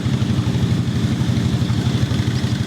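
A boat engine runs during a trip near Panag island off Phuket, giving a loud, close, steady low throb with a rapid regular pulse and no voices.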